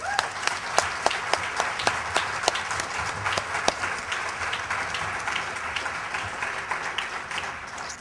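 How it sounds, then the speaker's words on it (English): A convention audience applauds the planners and volunteers, with a few sharp, distinct claps standing out early over a broad, steady round of clapping that continues evenly to the end. "I just want to give them and all of the planners and volunteers a round of applause."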